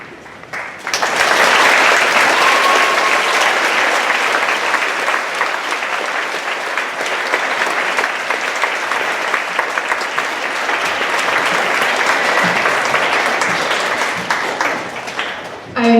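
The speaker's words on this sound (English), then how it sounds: "I invite our students and visitors to extend their appreciation once again for our guests with a round of applause" Students and visitors at a school Veterans Day program give standing service members and veterans a long round of applause, a loud, dense crowd clapping that swells quickly and holds steady for over fifteen seconds before tapering.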